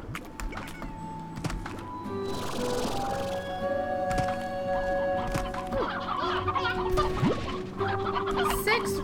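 Game rooster and chickens from Slime Rancher clucking repeatedly over a busy layered game soundscape, with tonal music-like lines and scattered effects, fairly loud and continuous without speech.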